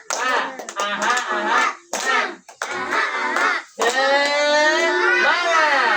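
Children perform a rhythmic spirit clap chant together in a classroom, sharp synchronized claps and snaps mixed with loud shouted group voices, close and energetic.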